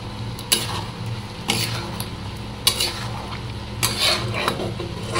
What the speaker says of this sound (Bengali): স্বাদ মতো একটু নুন আর অল্প একটু চিনি, এই দুটো দিয়ে একটু মিশিয়ে দেবো।